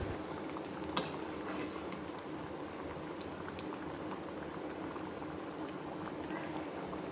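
Matar paneer curry simmers in a pan, giving a steady, close bubbling and popping that runs throughout, with one small click near the start and no voices.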